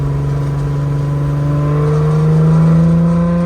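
A Toyota AE86 with a 2JZ engine swap, fitted with anti-lag and no nitrous, accelerates loudly and steadily from close by, its engine tone rising smoothly as it pulls.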